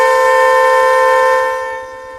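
A car horn blares continuously and loudly up close, a steady harmonic tone that weakens toward the end, with a faint rhythmic pulsing beneath it.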